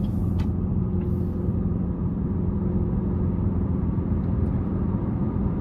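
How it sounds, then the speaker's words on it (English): A 2023 Chevy Malibu 2LT with a 1.5 turbo four-cylinder engine accelerates under light throttle, heard from inside the cabin as a steady, loud, low rumbling drone. "So I'll give it a little throttle here."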